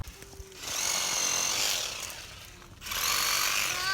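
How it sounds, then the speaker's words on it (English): A reciprocating saw buzzes loudly in two sustained bursts with a brief pause between, cutting through a wet wood branch close by at a campsite. "the Sawzall works pretty good"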